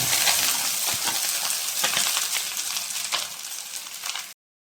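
Vermicelli (semiya) with beans, carrots and egg sizzles steadily in a hot pan, with light stirring clinks over the frying, before cutting abruptly to silence.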